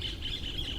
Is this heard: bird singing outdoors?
yes